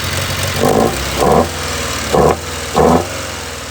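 An old rally car engine idles with a low steady rumble, rising in four short revs spaced about a second apart, each blip quickly dropping back to idle.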